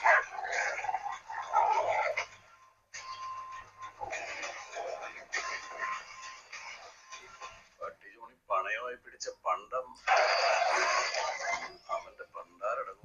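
Dog barks and growls from a fight scene in the Malayalam action film Marco, heard in loud bursts under people talking and reacting throughout.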